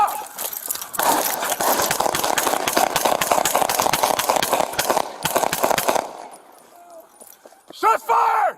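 Gunfire breaks out during a Dallas police confrontation with a suspect who had rammed several vehicles. A dense burst of sharp, loud cracks runs for about five seconds, then falls quiet before shouting voices follow.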